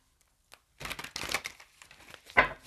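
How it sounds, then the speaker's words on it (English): Tarot cards are shuffled in close, crisp bursts of riffling and crinkling after a near-silent start, ending with one sharp, louder flurry. "Last shuffle."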